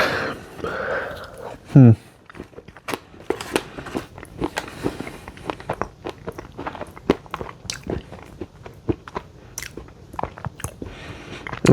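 Someone eats a cookie dough ice cream sundae close to the mic, with irregular wet chewing, smacking and soft crunching clicks, plus a brief louder bump near the start.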